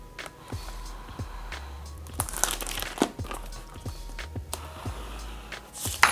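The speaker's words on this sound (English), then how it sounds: "I'm gonna go and cut into the box or the plastic that surrounds it" A razor cutting into the plastic wrap around a boxed battery grip charger, close crinkling and crunching with irregular snaps and scrapes, fairly quiet and without talk.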